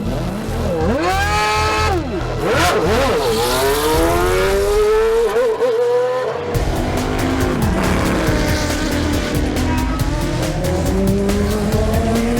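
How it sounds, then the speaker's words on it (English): Original Formula One race cars at the Adelaide Motorsport Festival scream past on the track, loud engine notes rising and falling through gear changes, tyres squealing, with a continuous roar as several cars pass close by. "the spirit of the event is perhaps best embodied in these machines, the Formula Ones."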